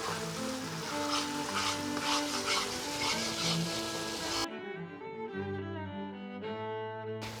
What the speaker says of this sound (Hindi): इन सब्जियों को जो मैंने अब डाली है तीनों को अच्छे से भूनना है।